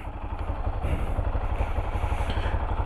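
A motorcycle with no license plate and a missing fender idles on a street, giving a steady, close, low throbbing rumble with a slightly rough, pulsing rhythm and no talk over it.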